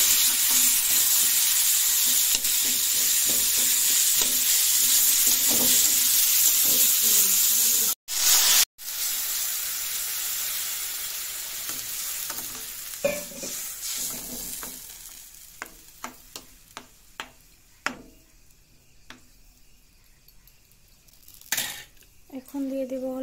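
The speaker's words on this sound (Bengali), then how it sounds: "অল্প পরিমাণে জিরের গুঁড়ো দিয়ে সুন্দর করে নাড়াচাড়া করে নেব" Food sizzling steadily as it fries in a pan with a little cumin powder, stirred and scraped continuously, then a run of sharp clicking utensil taps on the pan as the frying noise fades.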